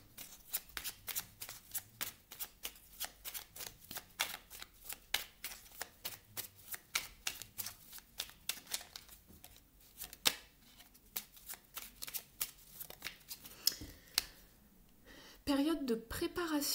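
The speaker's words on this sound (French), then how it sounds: "On va prendre une dernière carte du petit oracle de la mission de vie de Jenna Blossom" Oracle cards are shuffled by hand during a card reading, a long run of quick crisp riffling slaps in uneven bursts, close and clear, with a brief louder shuffle at the end.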